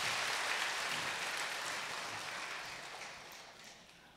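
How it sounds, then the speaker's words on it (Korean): Applause from a church congregation after an infant baptism at a Sunday service, a dense even patter of many hands that starts full and slowly fades over a few seconds, with no talk over it. "박수 한번 해주겠습니다."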